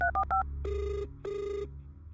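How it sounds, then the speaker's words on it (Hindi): A phone rings during an outgoing call, with a few short melodic electronic tones followed by two sustained buzzy ring bursts, moderately loud over a low background hum, with no talking. "वो अपना फोन निकालकर आयशा को कॉल करता है।"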